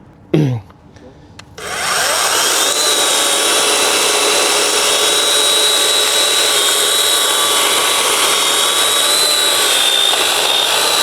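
A Grosser cordless battery saw runs steadily, a loud continuous whining drone with tonal harmonics that starts after a brief moment of quieter handling noise and holds for about nine seconds.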